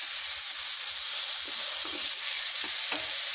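Sliced onions sautéing in hot oil in a pan, a loud continuous hissing sizzle with faint soft scrapes of stirring underneath.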